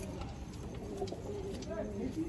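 Pigeons coo softly inside a loft in Garia, giving low, repeated rolling calls close by while people talk over them.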